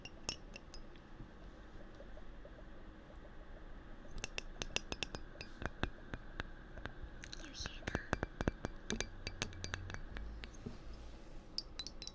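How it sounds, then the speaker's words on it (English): Glass being handled in a barista coffee shop setting, producing a series of small sharp clinks and taps that thicken in the second half, close and quiet, with a soft whisper-like texture underneath. "I really like the way this glass sounds"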